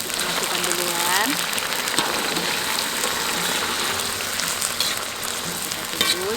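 Corn dropped into a pot of boiling salted water outdoors, a constant bubbling, sizzling roar with scattered splashes while people talk nearby.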